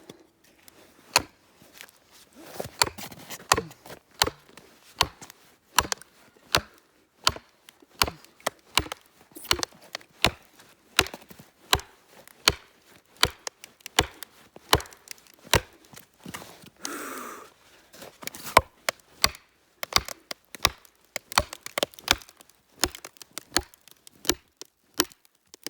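Cedar wood split with a hammer: a long run of sharp, regular wooden cracks and knocks, close and loud, repeating roughly once a second with brief splintering crackles in between.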